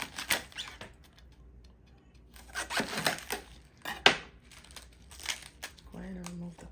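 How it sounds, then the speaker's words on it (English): A knife slices through a cabbage on a wooden cutting board, giving several crisp, crunchy cuts spaced irregularly with quiet gaps between, and a brief voice near the end. "I'm just going to go ahead and slice the cabbage."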